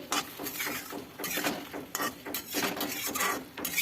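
Raw mango pieces stirred in warm oil in a wok for pickle, giving a rapid run of scraping, clattering spatula strokes against the metal, close and moderately loud with no voices.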